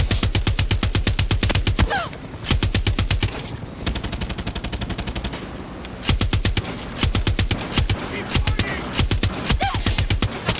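Rapid automatic gunfire from Far Cry 6 hammers in long, loud bursts with short pauses between them, close and dominant throughout.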